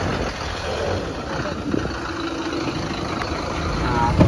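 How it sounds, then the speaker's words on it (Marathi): Thaneshwar Travels bus pulling away on its Devgad to Dombivli run, giving a steady, low interior engine rumble with broadband road noise throughout and a faint murmur of voices inside the cabin. "फायनली आपली गाडी निघाली आहे ठाणेश्वर"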